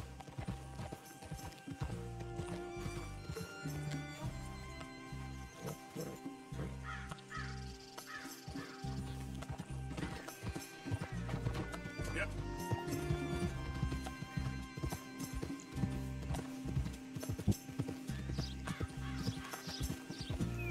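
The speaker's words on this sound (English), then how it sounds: "Pô, tô gostando desse cavalo aqui, tá correndo bem." Horse galloping in a Wild West video game, fast rhythmic hoofbeats running steadily under game music and crow caws, with someone talking over it.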